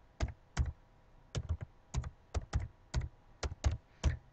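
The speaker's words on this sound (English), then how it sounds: "And I'm just typing and hitting enter between each number" Numbers typed on a computer keyboard with enter pressed between entries: clusters of crisp, close key clicks in a steady stop-start rhythm, quiet room with no talking.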